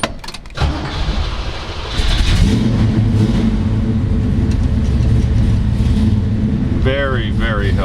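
A 1969 Chevrolet Camaro COPO tribute with a Hurst 4-speed cranks over and catches, then settles into a loud, steady, rumbling idle close by, with a brief rev near the end and a voice talking over it.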